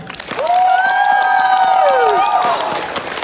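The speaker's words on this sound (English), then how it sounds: "give a roaring welcome and a huge round of applause" A convention crowd roars and cheers with clapping mixed in, loud and sustained, while a voice shouts over the noise.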